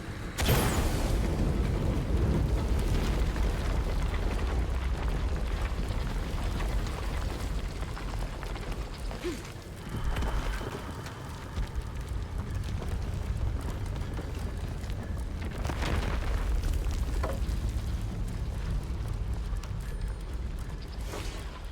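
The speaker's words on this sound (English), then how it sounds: "Exploding that gas might do something." A gas explosion in the video game Shadow of the Tomb Raider gives a loud, sustained rumbling roar that fills the whole stretch, dense and heavy with creaking, booming swells rising and falling.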